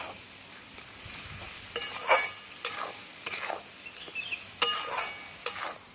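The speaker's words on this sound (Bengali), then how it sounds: "এটাকে এবার ভালো করে এই মশলাটাকে কষে নেব" Spice paste sautéing in a pan for a soybean curry made with milk: irregular scraping and stirring strokes over a low sizzle, several sharp spatula knocks standing out, close and moderately loud with no talking.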